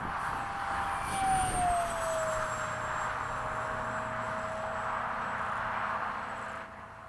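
A Freewing 70mm F-35 RC jet on its first flight at a model airfield, its turbine whine sweeping downward as it passes overhead, then holding a steady high-pitched roar at moderate distance over constant background noise.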